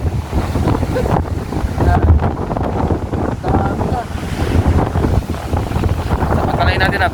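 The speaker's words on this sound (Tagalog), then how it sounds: "Sa lakas ng hangin." Strong gusting wind near the Bangui windmills buffets the microphone with a heavy, rumbling roar that surges and dips throughout, loud and close, with no clear speech.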